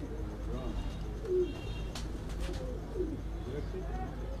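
Quetta pigeons coo softly among rooftop pigeons, a few low, brief calls set against quiet background hum.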